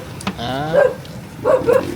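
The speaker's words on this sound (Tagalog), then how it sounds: "Oh, Eran, huwag ka pupunta doon, makakagat ka ng aso" A dog barks a few times nearby, with short yelping barks spaced out over a couple of seconds.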